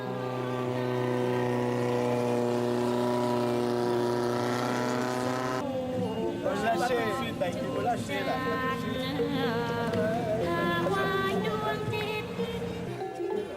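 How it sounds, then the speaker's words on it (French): Droning long-tail boat engines run steadily on a river in Thailand, a loud motor tone shifting midway as another engine passes, with no talk over it. "Ici, les longues queues font rougir leurs moteurs."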